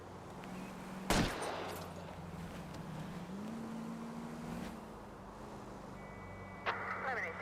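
Gunfire aimed at a fleeing car's rear wheels during an L.A. Noire chase, one sharp loud shot standing out over a steady engine drone and a rising motor pitch, with a second burst near the end; people speak over it.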